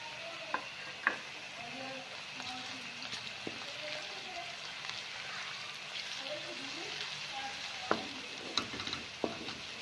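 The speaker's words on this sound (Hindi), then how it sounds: "और अब मैं इसमें लहसुन अदरक का पेस्ट भी शामिल कर दूंगी, ताकि वो भी इसके साथ साथ थोड़ा सा ब्राउन वो भी हो जाए।" Chicken with garlic ginger paste browning in a pan gives a steady, quiet sizzling hiss, broken by a few light clicks and scrapes of stirring. Faint background voices can be heard.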